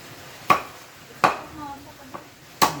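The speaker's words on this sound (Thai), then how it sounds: "อันนี้ก็คือสับค่ะ" Knife blows chopping boiled food on a board, three sharp thuds spaced about a second apart plus a fainter tap, close by in a quiet room.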